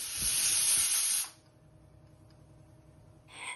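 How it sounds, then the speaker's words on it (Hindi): A pressure cooker cooking dal lets out a loud, sharp steam whistle hiss for just over a second, then falls to a quiet low rumble before the hiss starts again at the end. "मीडियम फ्लेम पर पाँच से छः सीटी लगने तक इसे पका लेंगे"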